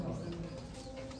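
Close, quiet cooing comes from a male Royal Teddy pigeon, a brief low burbling call with a faint background hiss.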